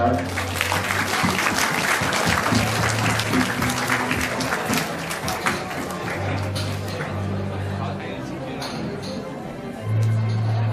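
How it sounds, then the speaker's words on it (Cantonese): A crowd gives warm applause at a wedding cake-cutting ceremony. Full, steady clapping runs throughout over low background music, with a slight dip in level near the end. "我哋再次熱烈掌聲鼓掌"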